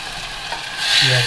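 Garlic ginger paste dropped into a pan of lightly browned onions, tomatoes and green chillies frying for beef handi, giving steady close sizzling and stirring that swells louder toward the end.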